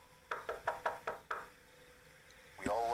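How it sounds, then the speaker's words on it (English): Five quick, evenly spaced knocks on a house window, distinct and fairly close, followed by a short quiet pause and the start of a voice. "I turned around when I heard a knock at the window of the house."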